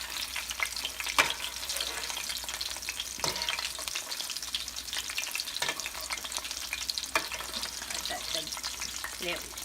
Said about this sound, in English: The cutlets have been on for 4 minutes on the first side, and then about 4 to 6 minutes the second side.